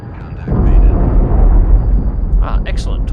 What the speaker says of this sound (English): Torpedo self-destructed, so we can now go silent.